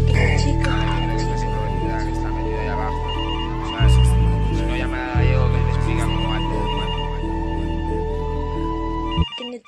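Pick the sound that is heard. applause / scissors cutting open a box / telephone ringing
telephone ringing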